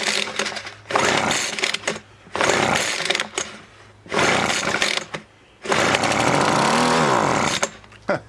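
A Weed Eater Featherlight FL1500i two-stroke leaf blower engine roars to life in repeated bursts, revving loud and raspy for a second or two, cutting out, then restarting and surging, with one longer run that rises and falls in pitch.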